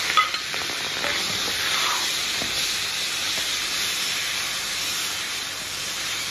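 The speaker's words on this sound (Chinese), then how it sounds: "统统下锅开始煎。" Food sizzles in hot oil in a pan, a steady bright hiss that runs unbroken from start to finish, close and alone with no talk.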